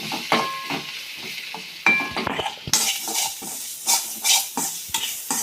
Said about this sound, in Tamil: இப்போ இதை நல்லா வதக்கி விட்டுக்கணும்.